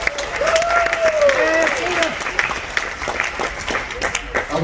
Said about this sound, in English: let's give a round of applause for Sheena as she comes.